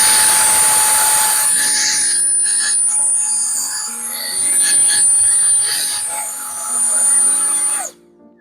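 A Froggy's Fog Thanos fog blaster runs on its strong wind setting. It gives a loud, steady fan roar with a high whine, swelling slightly in the middle and cutting off abruptly near the end, while someone talks over it.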